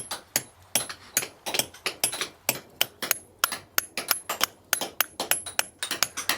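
Steel chisel struck by a hammer while carving stone at a medieval castle building site in France, a steady run of sharp, ringing metallic taps about three per second, close and loud with no talk.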